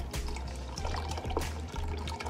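Water pours steadily into a large pot of chicken broth, a continuous splashing fill with a low liquid rumble, close and alone without talk.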